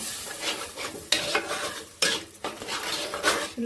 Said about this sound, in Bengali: এটা হচ্ছে সেই পেঁয়াজ আর বাদামের পেস্ট ভালো করে আমি একটু কষিয়ে নেব